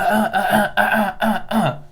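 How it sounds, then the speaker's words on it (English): Someone with allergies close by clears their throat about five times in quick rhythmic succession. "If y'all hear me clear my throat, my allergies."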